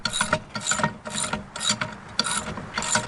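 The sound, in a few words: tightening a nut with a Gerber multi-tool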